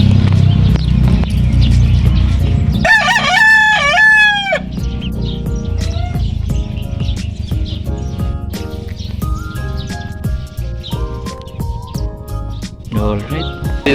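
Backyard-bred gamecock rooster crowing loudly and close in one full call, followed by scattered clucks and chirps from other fowl while someone talks nearby.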